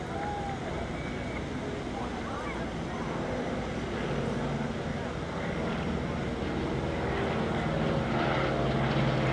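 An AT-11 Twin Beech aircraft drones overhead at a WWII VE Day flyover, a steady distant engine rumble that swells slightly louder toward the end.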